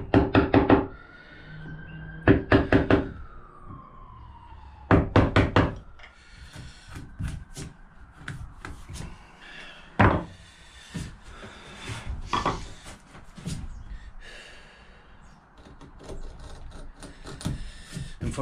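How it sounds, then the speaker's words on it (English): A hand chisel is struck into wood while making a phone stand, giving close, sharp knocks in short clustered bursts separated by quieter pauses with faint rubbing. "Now I'm just going to take my chisel and take it just before the line."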